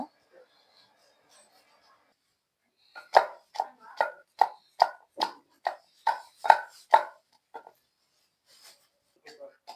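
Ingredients, garlic among them, pounded into a paste for a fish head dish cooked with taro leaves, heard as about a dozen crisp, evenly spaced knocks at close range after a quiet start, then a few softer taps.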